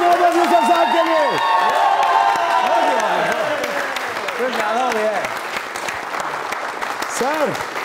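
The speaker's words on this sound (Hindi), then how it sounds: "जोरदार ताली मोहम्मद यूसुफ साहब के लिए।" Loud applause and cheering from a crowded hall greets cricketer Mohammad Yousuf, with steady clapping, whoops and a voice over the crowd, the noise easing slightly toward the end.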